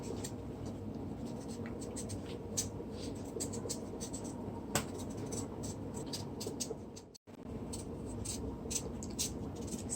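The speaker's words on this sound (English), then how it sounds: "I'm peeling on the Irish potato." An Irish potato being peeled by hand for Jamaican red peas soup: a quiet, close run of repeated short scraping strokes over a soft background hum.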